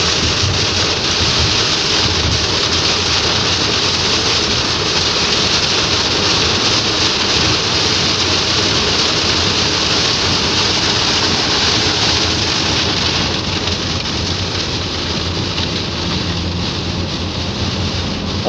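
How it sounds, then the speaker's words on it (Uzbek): Heavy rain and wind beating against a car while driving on a motorway, a dense, loud, unbroken roar of noise with no voices. "Yomg'ir, shamol bo'lib turibdi."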